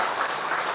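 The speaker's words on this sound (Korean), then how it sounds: "일단 박수 한번 주실까요?" Audience applause at a creditors' association event, a brief dense wash of many hands clapping at an even, moderate level.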